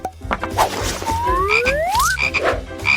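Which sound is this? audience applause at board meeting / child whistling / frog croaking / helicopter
frog croaking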